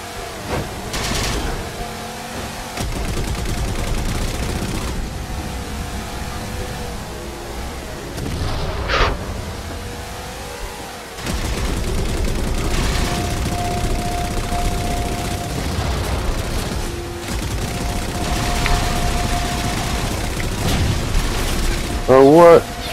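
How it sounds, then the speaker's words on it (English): Gunfire in the Halo 4 co-op campaign rattles through a dense battle mix with mechanical noise and rumbling explosions, running steadily for the whole stretch while players talk over it. "Guns overhead."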